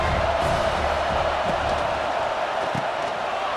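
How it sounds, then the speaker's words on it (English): A large crowd roars steadily in a stadium in the video game EA Sports College Football 26, a continuous broad wash of cheering and noise with no clear breaks. "This crowd bringing the energy and noise early."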